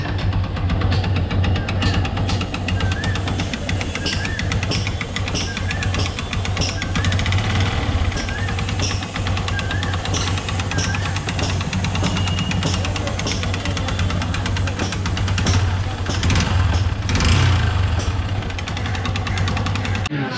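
A Yamaha FZs motorcycle engine idles with an abnormal timing-chain-related noise, a steady rattling, knocking clatter over a low hum, close and continuous throughout, with no talk.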